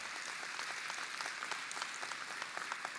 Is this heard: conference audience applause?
yes